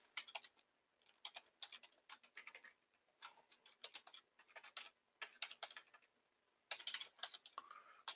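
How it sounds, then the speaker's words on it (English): Fingers type on a computer keyboard in bursts of quick, light key clicks separated by short pauses, close and fairly quiet with no talking. "can't type this morning."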